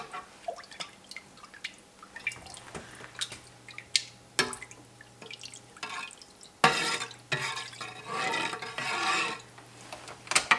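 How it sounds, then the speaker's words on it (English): A spoon stirs rennet into milk in a pot while mozzarella is being made, giving soft drippy sloshes and scraping strokes against the pot, quiet and irregular, with a faint background hum and no talking. "Stir really well back and forth and up and down."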